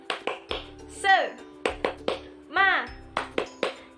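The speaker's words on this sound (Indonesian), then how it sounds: "Tepuk semangat." A teacher leads a class of young children through a rhythmic spirit clap, with short bursts of crisp group clapping in a set pattern alternating with a voice chanting along, in a small indoor room.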